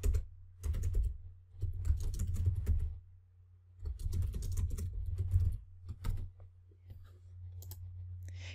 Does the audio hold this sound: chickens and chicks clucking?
no